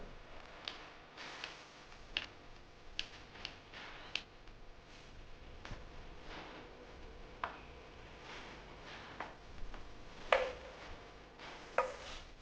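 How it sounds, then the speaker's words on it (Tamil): A knife chops tomatoes on a board, giving sparse, irregular sharp taps at close range and moderate loudness, with no talking. "ஓகே தக்காளி நல்லா வெட்டி முடிச்சாச்சு"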